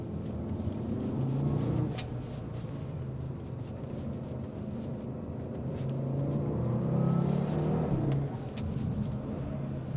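Cupra Formentor VZ5 engine while driving on a winding road near Barcelona, a steady loud rumble that swells under acceleration and eases off, heard from inside the car.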